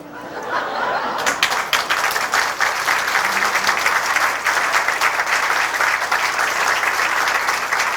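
Loud, sustained applause from an audience at Oklahoma State University Okmulgee's 50th anniversary celebration, dense clapping with a few scattered chuckles, swelling in after a quiet first second and holding steady to the end.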